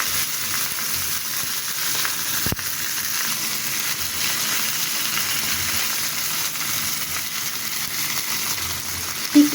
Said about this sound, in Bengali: এভাবেই ভেজে নিতে হবে।